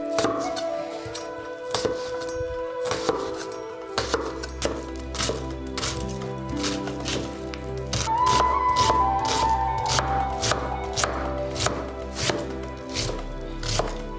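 A knife dices fire cider ingredients on a cutting board: a quick run of sharp, close chops over steady background music.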